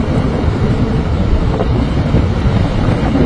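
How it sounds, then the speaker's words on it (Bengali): Strong wind roars steadily at an airport in Bangladesh, a loud, dense buffeting rush across the whole stretch, with no talking. "ও মাই গড, এত বাতাস!"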